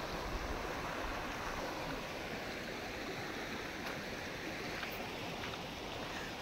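River current at the Osorio river in Trece Martires, Cavite, a steady broadband rush of flowing water, close and constant throughout with no voices over it.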